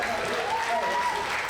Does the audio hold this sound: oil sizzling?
no